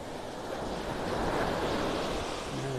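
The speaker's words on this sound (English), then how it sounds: "Nice little series of waves coming in here." Ocean waves break and wash steadily onto a beach in North Naples, Florida, a loud continuous surf roar that swells and holds for a few seconds, with some wind noise and no talking.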